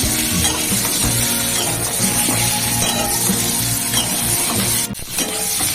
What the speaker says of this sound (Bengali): এটা ভাজে দিয়ে একটু ভেজে নিই নাড়াচাড়া করে